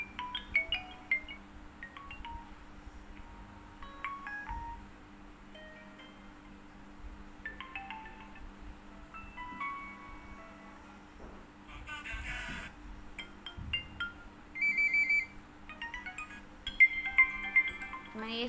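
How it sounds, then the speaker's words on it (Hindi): Incoming-call ringtone on a vivo Y21A phone, played back as short melodic tone bursts and chimes that grow livelier toward the end, heard quietly over a low steady hum with no speech. "इनकमिंग कॉल रिंगटोन पर जाना है। मैं प्ले करके दिखा रही हूँ।"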